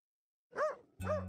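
A dog in the video game Eastward barks twice, a sharp yelp followed by a second bark over a low hum, after a moment of silence.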